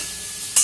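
Vegetables sizzle in a hot pan in a brief burst of frying hiss that flares suddenly louder near the end.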